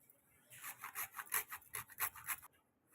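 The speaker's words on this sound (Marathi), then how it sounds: "आपण याच्यात जायफळ टाकू किसून बारीक करायला टाकलं नाही किसून टाकायचं" A nutmeg is grated into a sweet dry-ginger mixture, giving about seven short, quiet rasping strokes in quick succession, close by, with no talk.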